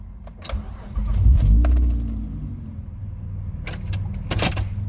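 Keys jangle and an ignition is switched on in a 2004 Saturn Vue, a brief metallic rattle followed by a low hum and faint chimes inside the quiet cabin, with a few more key clinks near the end.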